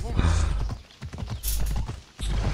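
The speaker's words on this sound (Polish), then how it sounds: "Jest pan koń." Horse hooves clip-clop steadily in Assassin's Creed Odyssey, with a whinny breaking through, loud and close over game ambience, while someone talks faintly underneath.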